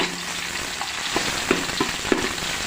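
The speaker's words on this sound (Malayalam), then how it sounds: "സവോള അതിൽ തന്നെ വറുത്ത് കൊടുക്കാം ഞാനൊരു മൂന്ന് സവോള സൺഫ്ലവർ ഓയിൽ ഓയിലാണ് നമ്മൾ വറുത്ത് കോരിയെടുക്കുന്നത്" Continuous loud sizzle of three onions frying in sunflower oil, with a few soft clinks of stirring scattered through; no one speaks.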